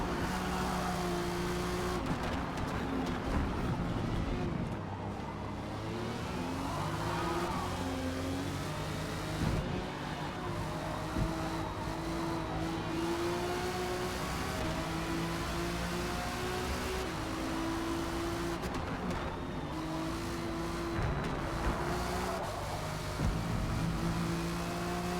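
Race cars in a Forza Motorsport video game race, a steady droning engine roar with gradual pitch sweeps from several cars together and a faint hiss throughout, no talking.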